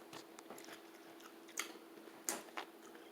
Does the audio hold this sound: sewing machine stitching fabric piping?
no